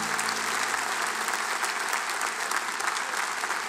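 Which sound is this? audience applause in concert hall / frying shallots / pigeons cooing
audience applause in concert hall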